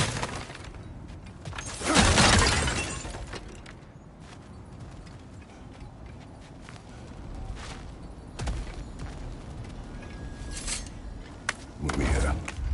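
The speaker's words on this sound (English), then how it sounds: "back to smashing through things for fun and profit" Objects shatter and break in God of War with sharp crashing bursts, a loud one early and others scattered throughout, over a steady background with some talk.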